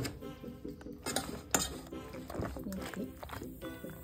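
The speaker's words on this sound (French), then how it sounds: "Je vais remettre mes pâtes dans la marmite." Cooked pasta tipped back into a cooking pot with vegetables confited in the oven, giving scattered metallic clinks, scrapes and utensil knocks against the pot, close and moderately loud throughout, with a sharp clank partway through.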